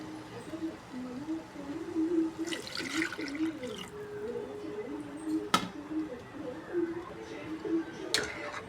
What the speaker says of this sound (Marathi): आपण थोडं आता पाणी टाकू याच्यात गरम.